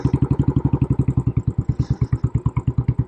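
Royal Enfield Classic 500 Military single-cylinder engine thumping in a steady, rapid rhythm while riding, close and prominent with no talk.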